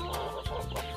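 A laying hen among backyard free-range heritage-breed chickens clucks a few close, short notes in quick succession, clear against light background noise.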